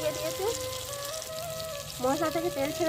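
Spice paste with chilli powder sizzles and fries in hot oil for a Bengali hilsa curry, a steady close crackle with short bursts of stirring.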